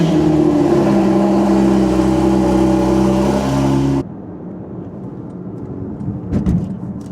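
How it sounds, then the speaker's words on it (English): Porsche GT4 RS engine revs loudly and steadily for about four seconds, a dense, close roar that cuts off abruptly, leaving quieter ambient rumble with a brief knock near the end. "this is gonna be the last startup on the GT4"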